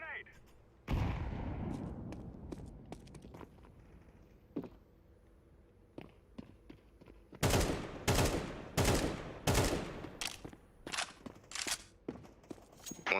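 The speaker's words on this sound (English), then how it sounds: "Throwing a grenade." In a Counter-Strike 2 match, a grenade blast is followed by a string of sharp, loud gunshots and clicks, with occasional footsteps and quiet chatter between shots.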